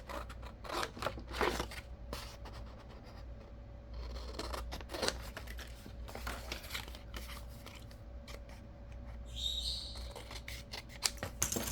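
Scissors cutting a picture of an old, scary house out of a paper page for a junk journal: repeated close snips and paper rustles come in irregular bursts over a quiet background hum, with no talking.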